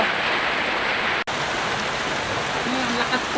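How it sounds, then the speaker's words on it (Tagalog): Heavy rain pours steadily as a dense, even wash of noise with no breaks, loud and close, and a brief faint voice sits underneath it near the end. "Ang lakas ng ulan."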